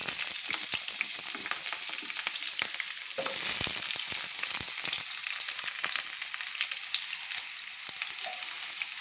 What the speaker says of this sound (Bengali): সুন্দর করে আলুগুলো একটু লাল লাল করে আমি ভেজে নিয়েছি